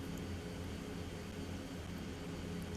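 Mitsubishi MU-2 Marquise turboprop taxiing in beta in X-Plane 12, a steady low engine drone with a faint whine on top, even and unbroken throughout, with no voices.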